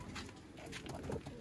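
Sialkoti roof pigeons cooing softly at close range, low repeated throaty coos over a quiet background with faint rustling.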